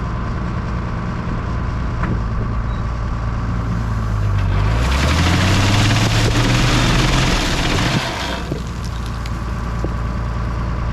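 An almond tree shaker engine roars at full throttle in an orchard, steady loud droning that swells and climbs in pitch for several seconds before dropping back to a lower rumble.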